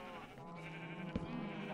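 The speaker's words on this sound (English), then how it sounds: "Sorry about all the cows and thingies noises" Farm animals in the Minecraft video game bleat in a sheep-like way, a faint wavering cry over a steady low hum with a brief thump in the middle.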